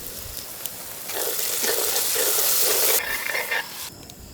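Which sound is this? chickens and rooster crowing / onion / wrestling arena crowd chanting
onion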